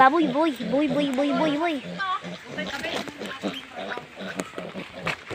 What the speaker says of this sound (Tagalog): Yan, baboy.